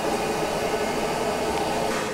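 A vacuum cleaner pulls a draft through a barrel of a wood-gas generator, producing a steady, loud, broadband roar that continues unbroken throughout with no talking.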